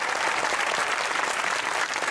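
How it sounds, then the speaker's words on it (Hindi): Studio audience applauding on a Pakistani comedy talk show, a dense, steady wash of many hands clapping close by that fills the whole stretch without pause. "ठीक है? ताली।"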